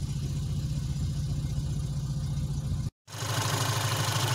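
A warmed-up ZAZ Slavuta car engine idles evenly with a steady low rhythmic thrum, close and continuous, broken by a brief cut before resuming.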